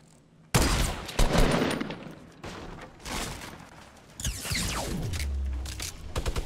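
Video game gunfire comes in loud, close bursts of rapid shots that stop and start, with a sweeping whoosh and a heavy rumble near the end.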